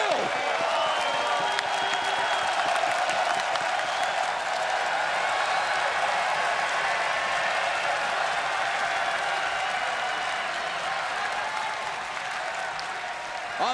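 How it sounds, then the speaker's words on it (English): A large wrestling arena crowd in Portland at an NXT TakeOver event gives a thunderous ovation, with dense, sustained applause and cheering filling the hall at steady loudness for over ten seconds, with speech mixed in. "A thunderous ovation from this appreciative crowd here in Portland"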